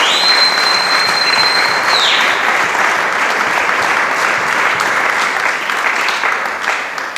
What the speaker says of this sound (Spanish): dele palmas al Cristo de la gloria